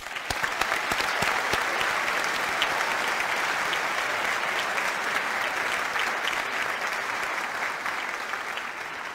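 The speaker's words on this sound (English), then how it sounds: "One last round of applause for everyone." Sustained audience applause fills a high school scholarship night in North Andover, a dense, even wash of clapping from a large crowd that continues steadily throughout.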